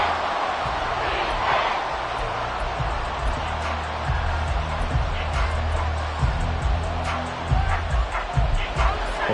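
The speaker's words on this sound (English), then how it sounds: "This crowd making it hard to hear." Stadium crowd in an American football video game during a Saints game, a constant loud roar of cheering that fills the whole stretch, with scattered thuds and a commentator talking faintly over it.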